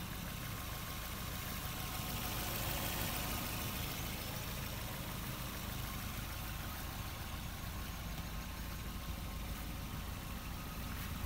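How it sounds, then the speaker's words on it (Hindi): A 2021 Toyota Urban Cruiser Premium engine idles, heard from outside the car, with a steady, quiet hum and broad hiss that stays even throughout. "और बाहर से भी एक बार सुन लीजिए कितनी आवाज़ आती है इस कार की।"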